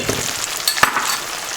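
Sauce being stirred in a pan with mushrooms sautéed in leftover meat butter, giving a soft close sizzle with a few light scrapes and clinks over about a second and a half, no voices.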